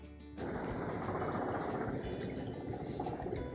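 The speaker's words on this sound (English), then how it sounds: "That's aeroplane." An aeroplane flying overhead in London, a broad, steady roar that swells in quickly and holds loud and continuous as it passes, with no voices over it.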